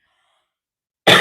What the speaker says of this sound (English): The AC is giving me cough.